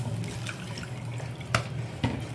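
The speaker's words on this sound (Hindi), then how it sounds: "4 कप ही हमें पानी इसमें ऐड करना है।" Water is poured from a measuring cup onto sugar in a pot to make syrup for homemade rasgulla, giving a steady splashing rush with a few sharper splashes near the end. No voices are heard.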